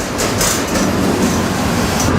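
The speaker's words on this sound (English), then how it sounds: "And I'm on this train." A moving freight train rolling at about 15 mph out of a Miami rail yard at night, heard from on board as a loud, continuous rumble with rhythmic clickety-clack of wheels on track.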